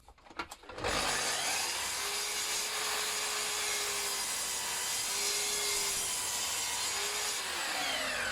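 A power saw trims the end of a beech board, starting after a few knocks and then cutting with a loud, steady whine that holds evenly for several seconds.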